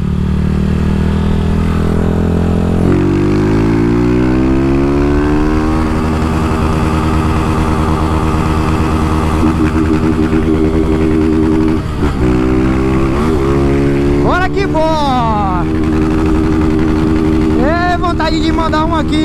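A Start 160 motorcycle fitted with a Dore exhaust revs loud and close, its engine pitch climbing through successive gear shifts with brief dips between them.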